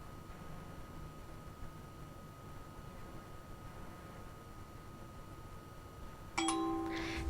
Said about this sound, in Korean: 자, 그러면 띵동 하고 알림